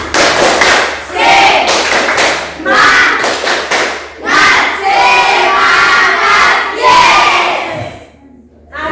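Schoolchildren in a classroom perform the tepuk semangat clapping chant, bursts of loud group claps alternating with shouted chanted words in a rhythmic pattern, close and boisterous.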